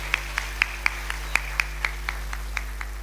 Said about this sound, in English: Can we have a big round of applause for our students?